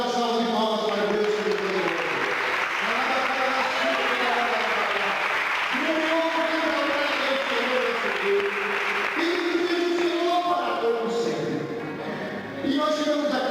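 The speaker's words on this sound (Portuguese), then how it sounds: "todos que crêem, dá uma salva de palmas para Deus" A church congregation claps together in sustained, loud applause that fills the room, with voices and cheers mixed into it. The clapping fades slightly near the end.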